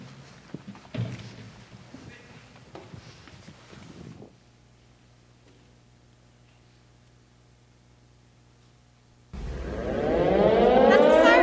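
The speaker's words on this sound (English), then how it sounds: "That's the siren!" An air raid siren swells up loud and near, its rising wail climbing in pitch after a stretch of quiet hum and earlier scattered thumps and rustling on a theater stage.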